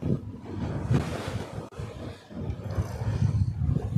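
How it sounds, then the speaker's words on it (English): Wind blowing during a boat race on the water, a steady rushing roar with gusty swells and buffeting against the microphone, fairly loud and without talk. "To me, Ralph, the wind has dropped, has dropped some."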